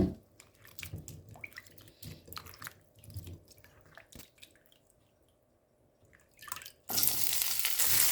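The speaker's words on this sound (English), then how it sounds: "Fill the bowl with water and wash the bitter melon 2 times." Bitter melon is washed in a bowl of water, with soft sloshing, squishing and dripping sounds close up and quiet, followed by a sudden loud hiss of running water toward the end.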